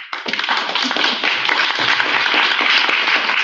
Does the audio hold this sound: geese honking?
no